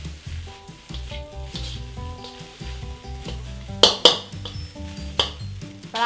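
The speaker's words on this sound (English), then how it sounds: "Fry until vegetable is done." Vegetables frying in a pan during Thai cooking, a low sizzle with occasional clinks of utensil on pan, heard beneath steady background music with sharper metallic taps near the end.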